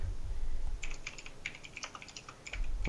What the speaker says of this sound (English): I'm typing in there.